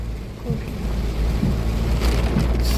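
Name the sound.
heavy rain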